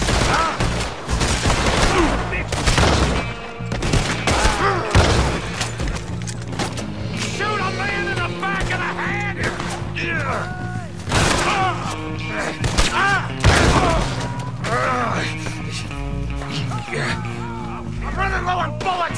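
Gunfire and explosions in Red Dead Redemption 2 come as a loud, dense fusillade of repeated shots and heavy thuds over the whole stretch, with shouted voices and game music mixed in.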